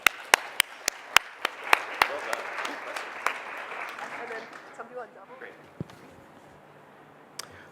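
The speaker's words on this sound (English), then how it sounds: "Let's give them a round of applause." An audience bursts into applause with sharp, loud claps at first, the clapping thinning and fading out over several seconds.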